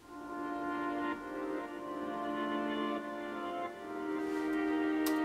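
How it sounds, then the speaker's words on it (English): A soft pad synth sustains a chord with a slow-attack swell, its notes fading in gently and gliding between chord changes, quiet and smooth with no talking. "this kind of pad synth type thing to play the chords when the main synth isn't playing"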